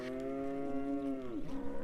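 A single drawn-out cow moo from a herded cattle herd on drained grazing land, close and clear, its pitch sliding downward before trailing off.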